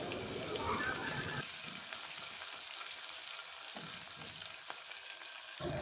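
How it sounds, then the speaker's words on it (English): A steady crackling sizzle of chopped onions and garlic frying in hot oil, close by, with a brief stirring scrape near the start. "I'll be adding my chopped onions and garlic. And I'll allow it to fry for a minute."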